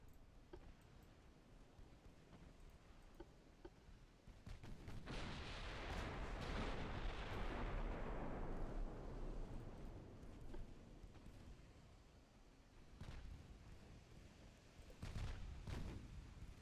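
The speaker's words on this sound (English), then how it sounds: "We are taking hits from torpedoes," Torpedoes striking battleships in the naval combat game Ultimate Admiral Dreadnoughts, a loud rumbling burst of explosive impacts that swells and decays over several seconds, with sharper cracks of gunfire later on.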